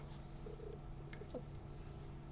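A pet cat purring steadily and close by indoors, a soft continuous rumble with a few faint background sounds and no talking.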